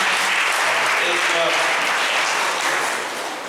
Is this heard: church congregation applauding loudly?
yes